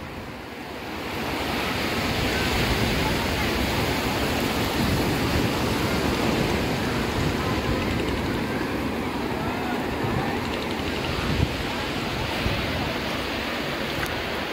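Sea waves break on the beach at Digha at sunset, a steady broad wash of surf that runs loud and continuous, with a few faint knocks near the end and no clear talk.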